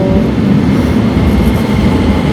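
A train arriving at a station in Tokyo gives off a loud, close, continuous rolling rumble with a faint clatter of wheels on the rails and no voices.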